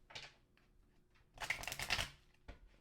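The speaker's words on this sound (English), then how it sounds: "These cards are so hard to shuffle." Tarot cards being shuffled by hand, a short riffling burst near the start, then a louder, longer rustling flurry of cards, ending with a single soft tap; close and fairly quiet, with no talking.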